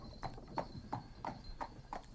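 A horse's hooves clip-clop in an even rhythm, six muffled steps at a walking pace, moderately faint and heard alone.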